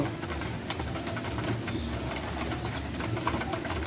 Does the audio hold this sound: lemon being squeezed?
no